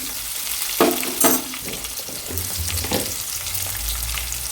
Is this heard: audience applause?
no